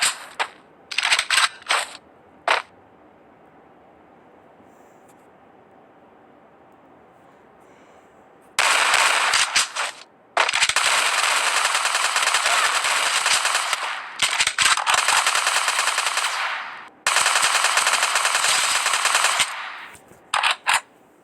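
Automatic gunfire from the Free Fire battle-royale mobile game, with a few short bursts early on, a quiet stretch, then long loud sustained volleys of rapid shots filling the second half.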